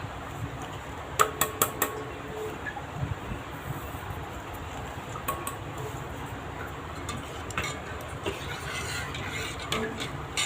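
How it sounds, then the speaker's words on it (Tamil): A spoon stirs rice kheer in a pot, giving soft, repeated scraping and clinking taps against the metal over a low simmering background, close and fairly quiet. "அரிசி வேகிற வரையும் நம்ம கிளறி விட்டுக்கிட்டே இருக்கணும்."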